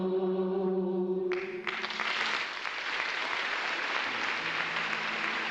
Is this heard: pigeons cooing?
no